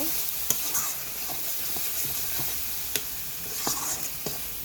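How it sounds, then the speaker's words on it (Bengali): Salt and turmeric are stirred into a sizzling fish curry in a pan, with a steady frying hiss broken by a few sharp clacks of the utensil, close up and with no voices. "এবার আমি পরিমাণ মতো লবণ, পরিমাণ মতো হলুদ দিয়ে দিলাম, মিশিয়ে নেব।"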